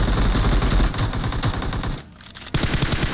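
Rapid automatic gunfire rattles loud and close in PUBG Mobile, a dense burst that drops out briefly for about half a second before the firing resumes just as hard.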